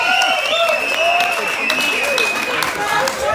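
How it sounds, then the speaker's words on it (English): An audience at a live concert in the Hawkesbury hotel, Windsor, claps and cheers loudly and steadily, a dense close wash of applause with whoops rising over it. "Come on, applause for the good things from this year."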